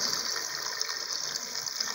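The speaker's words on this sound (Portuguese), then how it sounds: "agora eu vou colocar água." Clean water pours steadily into a cooking pot for a tilapia muqueca, a continuous bright splashing gush close by with no talk.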